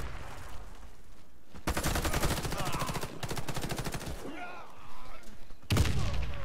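Rapid automatic gunfire in a video game clan war on the Highhill map comes in long, dense bursts with short pauses between them, fairly close and loud, with a voice speaking between volleys.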